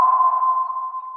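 A single-tone active sonar ping of the old kind used by World War II submarines and destroyers rings out as one steady, pure note that fades slowly, loud and alone.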